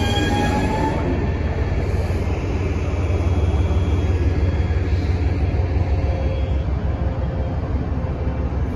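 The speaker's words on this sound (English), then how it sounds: "here comes our train to Ashmont. Our train to Ashmont is just now arriving." A Boston MBTA Red Line subway train bound for Ashmont pulls into the station with a steady, loud rumble of wheels on rails and faint squealing, continuous throughout without speech.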